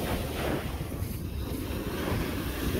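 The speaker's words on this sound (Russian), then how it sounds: "вот такие вот волны" Rough morning sea waves on the Bulgarian coast at Golden Sands, a steady broadband wash of surf mixed with wind buffeting the microphone, continuous and fairly loud with no voices.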